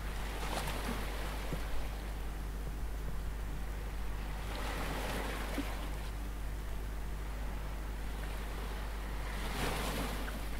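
Sea waves in the game Yuppie Psycho roll in and wash out in three slow swells over a constant deep rumble, each surge rising into a broad hiss before receding.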